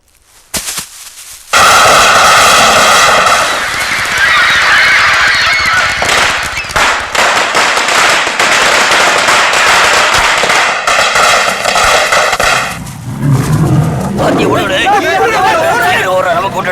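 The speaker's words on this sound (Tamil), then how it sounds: "யோ, வெடியை கொளுத்தி போடுங்க." Firecrackers are lit and set off in a Tamil film scene, giving a long, dense stretch of loud crackling bursts mixed with honking, goose-like noise and excited voices in the background.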